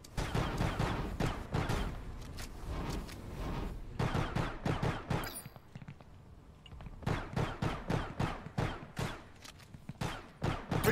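Rapid gunfire in the video game Star Atlas, dense bursts of automatic shots in quick, uneven volleys with a brief pause midway, loud and close.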